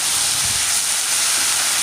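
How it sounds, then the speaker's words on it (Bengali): Onion paste dropped into ginger paste frying in hot oil, giving a steady, loud broadband sizzle that holds evenly throughout with no voices. "এবার কিন্তু পেঁয়াজ বাটাটা আমি দিয়ে দিচ্ছি"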